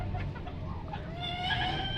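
Kampung chickens mixed with local KT chickens cluck softly in short, fairly faint calls over low background noise.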